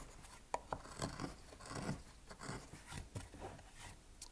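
A chisel carves a woodblock for Japanese printmaking, producing soft scraping and rasping cuts in irregular strokes, with a few sharper taps, close and quiet.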